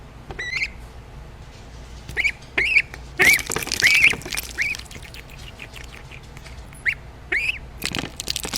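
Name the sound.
duck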